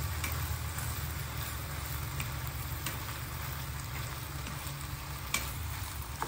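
Green beans and seafood sizzle steadily in a hot pan as chilli and fish sauce are stirred in, a constant close frying hiss over a low rumbling hum with a few faint utensil ticks.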